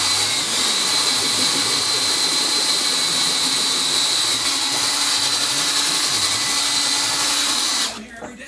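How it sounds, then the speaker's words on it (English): Power drill boring a hole in the back of a weedeater clutch part, a loud continuous high-pitched whine running steadily for several seconds before cutting off at the end. "drill the hole in the back of this"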